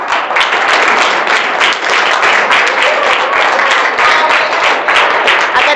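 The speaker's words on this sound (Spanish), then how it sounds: "lo vamos a recibir con este aplauso." A school science fair audience gives a loud, steady round of applause to welcome a teacher, with dense clapping sustained throughout and no gaps.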